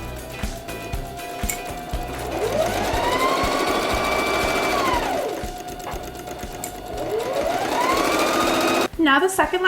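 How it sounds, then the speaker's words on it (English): A sewing machine runs in two long bursts, stitching the shoulder and side seams of a woven cotton-style T-shirt, its steady whirring motor rising and falling in pitch, loud and close, with a brief rustle of fabric at the end. "So I'll stitch like this along the shoulders and sides."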